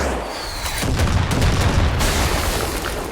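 Gunfire in Far Cry 6 erupts as a loud burst of blasts and rumbling booms, dense and continuous for a few seconds before easing off.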